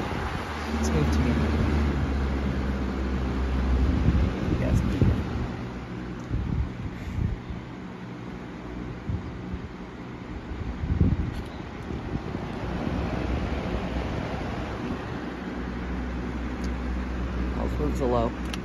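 An unbranded box fan runs with a loud, steady whooshing roar and low hum throughout, while a voice talks over it.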